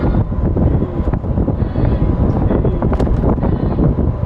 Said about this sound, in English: Hopefully you can hear us through the wind.